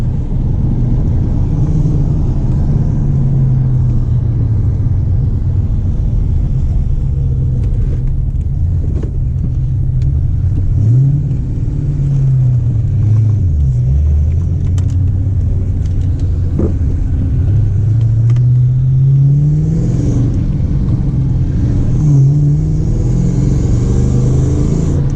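Inside a Lincoln Mark VIII with a manual transmission, a deep, constant engine rumble drones while the revs rise and fall several times as the car is driven.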